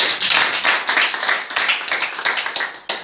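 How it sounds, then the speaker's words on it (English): A class audience at a Grade 9 science debate claps in a brisk, uneven round of applause, many hands close by, fading slightly toward the end. "Let us give them a round of applause."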